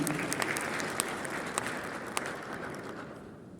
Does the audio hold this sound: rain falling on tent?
no